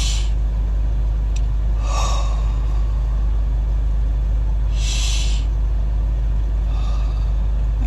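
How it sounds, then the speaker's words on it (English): Slow, deep breaths in a guided breathing exercise, a few airy inhales and exhales spaced seconds apart over a loud, steady low hum. "Come on, we're going to breathe about 2 more times."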